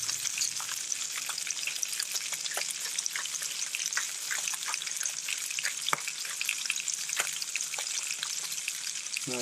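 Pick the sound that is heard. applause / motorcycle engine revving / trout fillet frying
trout fillet frying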